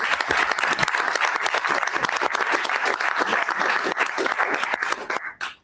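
Applause at a presidential cabinet meeting: a room of people clapping steadily and densely for several seconds, then dying away abruptly at the end.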